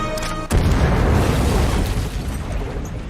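A grenade blast in an Aquaman film scene, a sudden loud boom after a brief musical lead-in, followed by a sustained rumbling roar that slowly settles.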